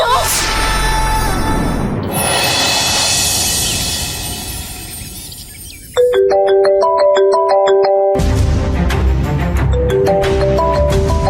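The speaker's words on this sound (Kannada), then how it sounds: "ಯಾವ್ದು ಫೋನ್ ಬರ್ತದೆ ನೋಡು." A mobile phone ringtone plays a clear melodic tone pattern, loud and close, in a Kannada TV serial scene, following a stretch of dramatic background music.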